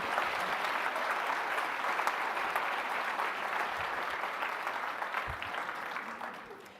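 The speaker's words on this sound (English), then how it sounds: "Could I get a round of applause for the people who have cooked and served our food this week?" An audience at the AIM for Climate Summit claps for the people who cooked and served the food, a broad, even wash of applause that gradually fades toward the end.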